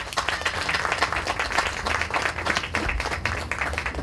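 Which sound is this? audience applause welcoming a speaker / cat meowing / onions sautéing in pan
audience applause welcoming a speaker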